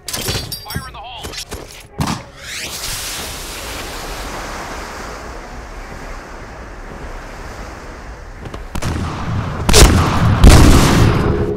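A grenade blast in the Point Blank video game: sharp cracks, then a long, loud rushing roar that fades and swells again into further bursts near the end.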